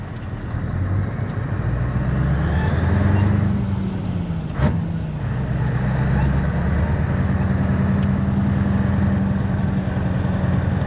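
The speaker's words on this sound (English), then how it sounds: "Listen to that turbo whistle." Inside the cab of a Scania 143 500 V8 truck, the engine roars steadily and loudly while a thin turbo whistle rises and falls over it, with a short sharp hiss midway.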